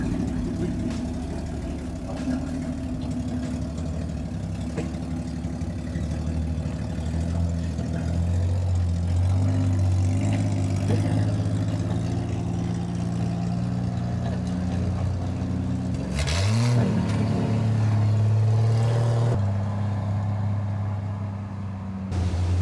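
A 1968 Chevy C20 pickup's engine idles with a low rumble, then revs up with a rising whine around the middle as the truck pulls away, loud and close, with no talking.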